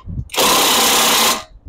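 Impact wrench tightening a lug nut while a broken wheel stud is replaced: one loud, dense burst of roughly one second that starts and stops abruptly, close by and heard on its own.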